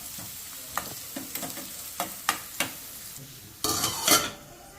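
Garam masala and chopped onions fry in hot oil in a pan for a brain fry dish, with a soft sizzle broken by sharp spoon-on-pan scrapes and taps and a louder burst of sizzling near the end.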